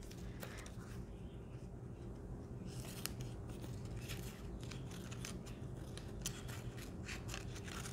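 Scissors snipping through paper to cut out an alligator's tongue for a craft, a series of soft close scrapes and snips over a steady low background hum.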